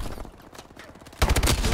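Gunfire in the Call of Duty Advanced Warfare multiplayer Ground War mode: faint scattered shots at first, then a loud, close burst of rapid automatic fire in the second half.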